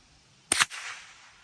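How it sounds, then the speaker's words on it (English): The trigger of a Springfield Model 15 .22 Long Rifle rimfire being pulled, a single sharp mechanical click with a short rattle, close and isolated against quiet. "let's try this trigger out"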